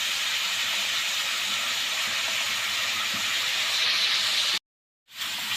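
Chicken liver and gizzards sauté in a hot pan, giving a steady, loud hissing sizzle that runs unbroken for several seconds before a short cutoff.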